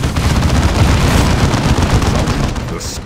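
Sustained rattling gunfire and booming blasts from a sci-fi squad battle in the PC game Warhammer 40,000: Dawn of War II Chaos Rising, loud and dense throughout with no pauses.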